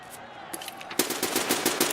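Fast, close automatic gunfire in Escape from Tarkov Arena, with a few sharp shots followed by a rapid burst of repeated cracks.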